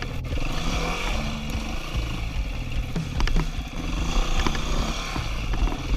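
An enduro motorcycle ridden along tight, rocky single-track trails at a rally, its engine droning steadily and close throughout with clattering knocks as the bike works over rough ground.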